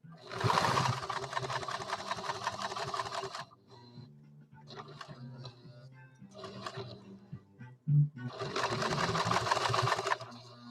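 Adler 189A industrial sewing machine stitching thick leather in bursts: a loud rapid mechanical rattle, then a quieter pause with small clicks and a thump, then stitching resumes.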